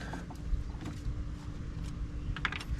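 Wrench or screwdriver work loosening tight hose clamps on a Nissan Sentra, heard as small clicking, ratcheting metal sounds over a steady low hum of background noise, fairly quiet and close.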